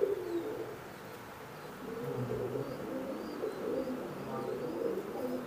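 A pair of imported teddy pigeons from Oman, a breeding pair sitting on eggs, give soft low cooing, faint and close against a quiet background hiss.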